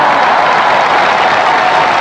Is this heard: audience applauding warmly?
yes